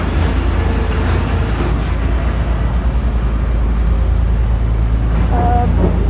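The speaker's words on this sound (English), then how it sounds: "I like this truck pass." A truck passing on a road, a loud, close, steady low rumble of engine and tyre noise that stays level for several seconds with no talking.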